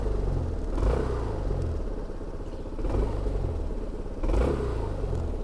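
A Honda Forza scooter engine runs with a low, steady rumble, swelling gently in a few soft surges, heard from a modest distance without speech.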